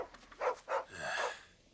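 A dog in the video game Final Fantasy 16 gives two short barks, then a longer drawn-out whine-like bark, all fairly close and clear with no talk over it.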